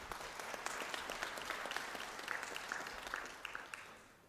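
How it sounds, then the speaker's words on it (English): Audience applause at an ATU university conferring ceremony honours a health and social care graduate, a soft, somewhat distant patter of many hands with a few crisp individual claps standing out near the end. "A round of applause, please, for Elizabeth."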